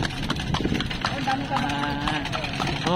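Horse hooves clip-clop steadily on a street during a ride in Ilocos, Philippines, under constant loud talk and crowd noise.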